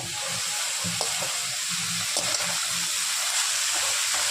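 Food with turmeric sizzles and crackles steadily in hot oil for a morola fish and greens curry, with a few light clicks of stirring, close up and with no one speaking.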